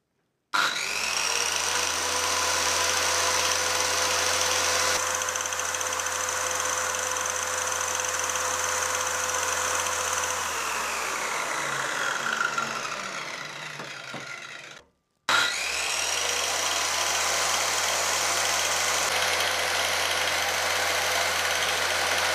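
An INGCO 185mm circular saw whines at steady high speed for several seconds, spins down, then starts again and runs loudly cutting wood, close by with no voices.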